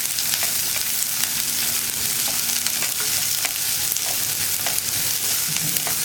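Fenugreek, ginger and onion sautéing in a pan for a Kerala moru curry with okra and tomato, a steady close sizzle and crackle with occasional stirring scrapes, no voices.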